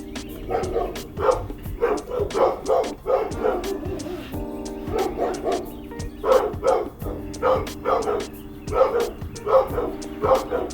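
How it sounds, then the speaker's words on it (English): Several dogs bark in repeated bursts, loud and close, with short yips between volleys, over a steady low hum and occasional voice in the background. "He got all the dogs mad."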